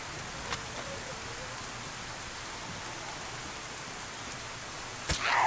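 Steady rain hisses as a broad, even wash of noise in the DayZ game world, constant throughout, with a faint tonal sweep early and a brief sharp burst near the end.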